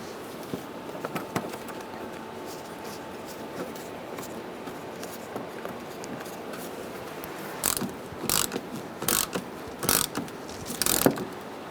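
A ratchet tightening bolts on the radiator panel of a 2010-2013 Kia Soul 2.0L: close, quiet mechanical clicking through a low background, then several bursts of rapid ratchet clicks in quick succession near the end.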